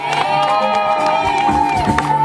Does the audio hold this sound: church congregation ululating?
yes